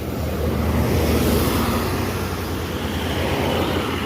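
A large bus rumbles past on a road in a steady wash of engine and tire noise, with no voices.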